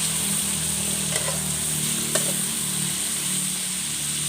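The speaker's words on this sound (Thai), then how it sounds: "เราก็ค่อยๆคนนะคะจนกว่าจะงวดแล้วก็เหลืองนะคะ คนไปเรื่อยๆนะคะ" Chicken frying in a pan on low heat while being stirred until the liquid reduces and turns golden, giving a steady close sizzle with a couple of faint utensil scrapes.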